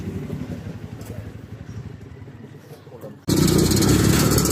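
A trail motorcycle engine idles with a rapid, even putter and people talk nearby, then the engine abruptly surges much louder for the last second.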